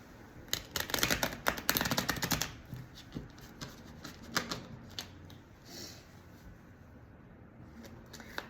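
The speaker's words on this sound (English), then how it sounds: "I'll just give it one quick shuffle." A deck of mini Rider-Waite tarot cards gets a quick riffle shuffle up close, a dense burst of flicking card edges followed by a few softer taps and shuffles fading out.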